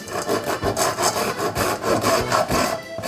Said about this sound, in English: We have a whole nutmeg that we're going to grate with a microplane.